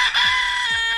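A rooster crows loudly and close by in one strained, drawn-out call that fills the whole moment.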